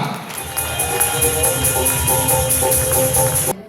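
A large audience applauds and cheers in a hall at an Indian motivational talk event, dense steady clapping and crowd noise lasting several seconds before cutting off abruptly.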